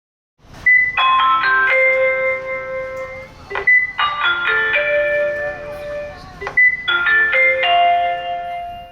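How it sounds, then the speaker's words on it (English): An electronic school bell at a school in Saipan plays a ringing chime melody three times to mark the end of the first week of the school year. The tune is loud and bright, with short pauses between the phrases. "The first week of school ends with a bell."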